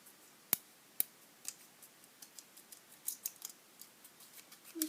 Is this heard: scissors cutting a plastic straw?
yes